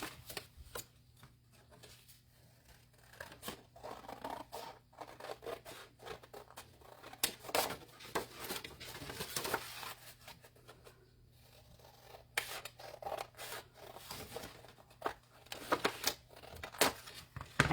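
Scissors snip close by in quiet, irregular cuts mixed with soft paper or fabric rustling, with no voice over them.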